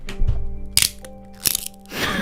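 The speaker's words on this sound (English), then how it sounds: "I just broke all my chopsticks." Chopsticks being snapped and broken: several sharp, close cracks and crunches in quick succession, with splintering bursts and a rustling tail at the end, no voices.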